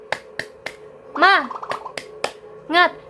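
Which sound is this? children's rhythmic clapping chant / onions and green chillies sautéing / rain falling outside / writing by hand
children's rhythmic clapping chant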